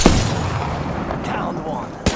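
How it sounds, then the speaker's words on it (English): Gunfire and explosive bursts from the battle royale video game Apex Legends, with a loud shot at the start, another sharp blast near the end and a rumbling mix between them, all under a voice speaking. "Defense placed. Taking fire."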